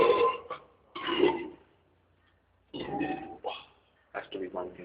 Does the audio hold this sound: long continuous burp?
yes